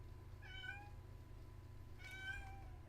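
A cat meows twice, clear rising-falling cries about a second apart over a low steady hum, with no talking.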